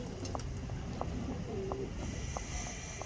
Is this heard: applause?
no